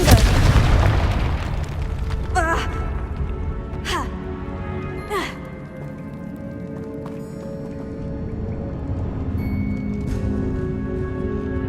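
Confringo fire spell going off in Hogwarts Legacy, a big booming blast at the start followed by several sharp bursts and ringing magical tones, with game effects and ambience carrying on underneath.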